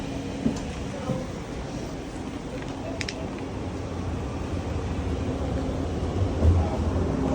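Steady low rumble of a train interior, continuous and fairly loud, with a few faint clicks and brief metallic tones.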